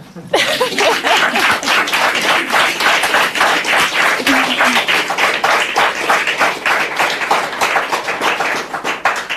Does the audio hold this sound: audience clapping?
yes